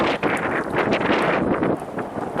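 Strong wind buffeting the microphone in a continuous, gusty roar, with faint rustling underneath.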